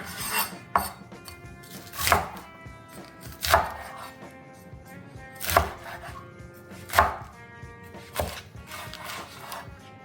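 A knife chops bok choy on a cutting board, with about seven distinct, evenly spaced thunks, close and crisp, and faint clatter between the cuts.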